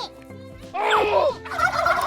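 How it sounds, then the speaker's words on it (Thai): A turkey gobbles loudly and close by, a single rapid burst answering a call, with no talk over it. "พิชิโน่เรียกไก่มานี่สิ ดูที่เขาจะตอบไหมนั่นเห็นไหมเขาตอบจริงๆด้วย"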